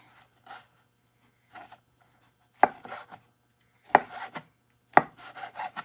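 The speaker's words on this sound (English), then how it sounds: "And I just cut them in pieces too," A knife slices through boiled potatoes on a cutting board in a quiet kitchen, with soft, widely spaced cuts followed by several sharper thuds as the blade strikes the board, each trailed by brief scraping.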